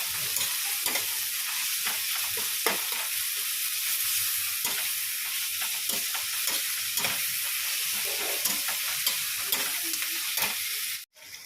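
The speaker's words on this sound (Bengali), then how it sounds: "রসুন আর আদা ছেঁচে রেখে দিয়েছি এটা একটু ভাজা ভাজা হলে দেবো" Crushed garlic and ginger frying in a pan while cooking a jackfruit curry, giving a steady, loud sizzle and hiss with intermittent stirring scrapes throughout, cut off abruptly at the end.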